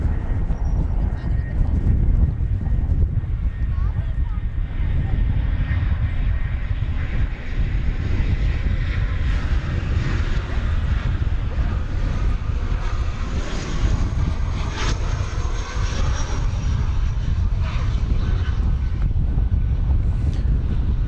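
An airplane departs DFW Airport heading east toward Florida, a steady loud engine roar mixed with wind buffeting across the microphone throughout, with no voices.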